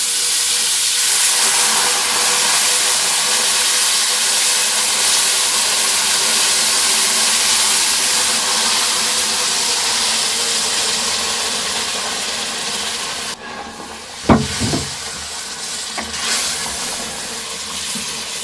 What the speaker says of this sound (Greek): θα ρίξουμε μέσα το νερό, το οποίο είναι ζεστό, μαζί με το ξύσμα πορτοκαλιού